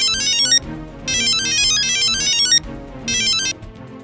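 A phone ringtone trills in three bursts with short pauses between them, bright and electronic, with low background noise underneath.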